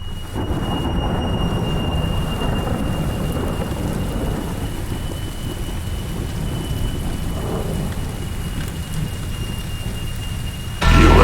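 Heavy rain pours steadily with thunder rumbling low beneath it, a continuous close storm wash running through the intro of a drum and bass track, with a faint steady tone above and a louder burst at the very end.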